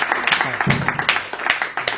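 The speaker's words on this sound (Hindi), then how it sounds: "बहुत जोरदार तालियों से अमित उमर का स्वागत करिए।" Scattered applause from an audience welcoming a poet at a Hindi poetry event: a series of sharp claps in an uneven rhythm, moderately loud, with a voice briefly underneath.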